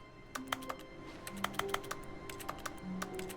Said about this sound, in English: of keys being typed.